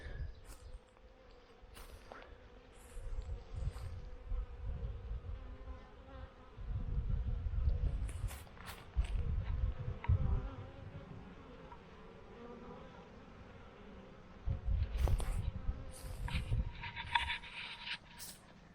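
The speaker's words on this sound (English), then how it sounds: "So here are the bees on Saturday afternoon." Honey bees swarm around a newly installed hive on a Saturday afternoon, a steady close buzzing drone that swells and fades as insects fly past, with no voices.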